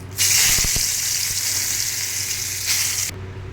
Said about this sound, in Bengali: এবার কড়াইয়ের মধ্যে 2 চামচ সাদা তেল দিয়ে আমি 2টো তেজপাতা এর মধ্যে দিয়ে দিলাম।